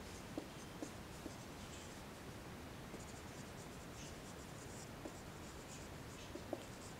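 Pen or chalk writing an equation in a chemistry class, faint scratchy strokes with a few light taps over a steady hiss, no voices.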